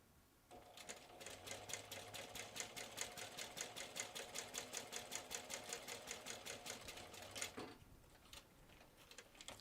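A sewing machine stitches the outer edge of a welt pocket, a fast, evenly pulsed run of needle strokes lasting about seven seconds before stopping.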